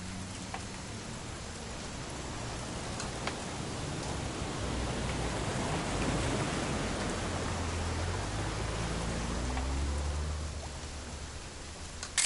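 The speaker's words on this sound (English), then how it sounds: "It's gonna rain the whole weekend, isn't it?" Steady rain falls in What Remains of Edith Finch, a soft, even hiss that holds at a constant level for the whole stretch, with only faint scattered taps and no voices over it.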